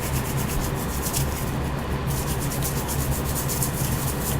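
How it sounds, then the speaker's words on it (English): A cleaning brush scrubs vigorously over the exterior of a revolver, a dense, continuous rasping rub with fast back-and-forth strokes close up. "Scrub everywhere you can get to. Scrub it vigorously. Okay? See I'm scrubbing here."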